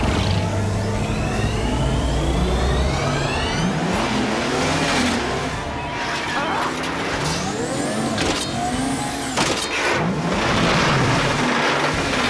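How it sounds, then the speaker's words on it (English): In a PAW Patrol cartoon, the PAW Patroller's super speed engine revs and roars loudly for several seconds, with rising whooshes and sweeping sound effects layered over the steady, continuous engine noise. "That'll send all the power we have into the super speed engine."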